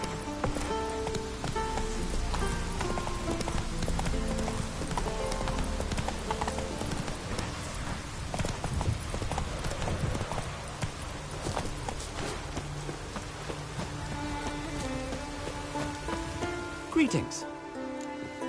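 Horse Roach clip-clops steadily through rain in a video game, a continuous close hoofbeat rhythm over a constant patter of rainfall, with a brief louder clatter near the end.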